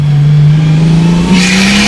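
A barn-find Ford EF XR6 runs close and loud, its engine droning steadily and climbing gradually in pitch as it revs, with a brief hiss near the end.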